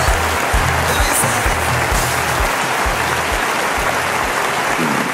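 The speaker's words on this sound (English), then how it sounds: "let's hear it for all our delegates. A round of applause." Loud applause from a pageant audience cheering Miss University Africa delegates, a dense wash of clapping over a rhythmic thumping music beat, continuous throughout with no voices.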